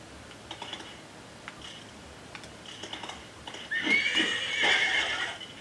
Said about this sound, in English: The spirit horse.